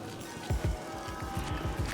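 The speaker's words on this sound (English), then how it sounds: "So we'll whisk it." A whisk beats fish and chips batter mixed with water in a bowl, producing a quick, regular series of soft rhythmic strokes, close and fairly quiet.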